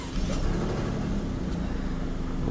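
A steady mid-pitched engine rumble from the V6 of an Alfa Romeo Stelvio Quadrifoglio SUV, heard from inside the cabin, holds at a constant level without speech.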